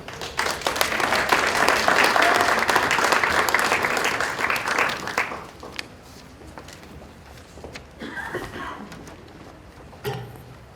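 An audience bursts into sustained applause to welcome a presenter at an investment panel, dense and loud for about five seconds before thinning to scattered claps, with a brief renewed burst near the end.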